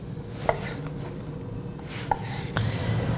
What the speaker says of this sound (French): on va les émincer en lanières de 1 cm d'épaisseur